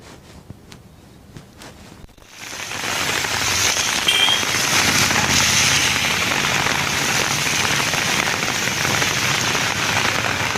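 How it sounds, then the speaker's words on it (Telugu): Heavy rain falls in Hyderabad. After a couple of seconds of quiet with a few scattered taps, a loud, dense, steady downpour sets in and continues unbroken. "నగరంలోని పలు ప్రాంతాల్లో భారీ వర్షం కురుస్తోంది."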